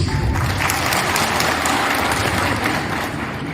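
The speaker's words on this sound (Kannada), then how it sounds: "ಬಹುಶಃ ಇದಕ್ಕಿಂತ ಚಪ್ಪಾಳೆ ಯಾರಿಗೂ ಬೀಳಲಿಕ್ಕಿಲ್ಲ" Sustained audience applause at a government employees' gathering, a dense continuous wash of many hands clapping that stays loud and steady throughout with no speech over it.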